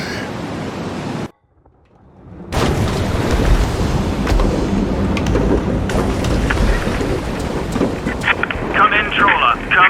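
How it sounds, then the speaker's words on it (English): Storm at sea in A Fisherman's Tale: a rushing roar of wind, rain and rumbling thunder swells up after a brief near-silent gap and holds loud and continuous, with a voice speaking over it. "In the heart of the storm!"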